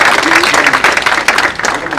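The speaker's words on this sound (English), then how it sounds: "Y'all give him a round of applause." A crowd claps in a loud, continuous burst of applause at a ribbon-cutting ceremony.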